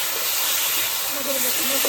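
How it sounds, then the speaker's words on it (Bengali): Spice paste of ground cumin, onion and garlic frying with potatoes for katla kalia, a dense steady sizzle and hiss filling the short moment without break. "মশলা ভাজা হয়ে গেছে, মশলা আর আলু ভাজা হয়ে গেছে।"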